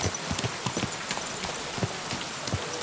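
Rhythmic clip-clop of horse hooves at a steady trotting pace in the video game Kingdom Come: Deliverance II, crisp repeated hoofbeats over a soft background hiss.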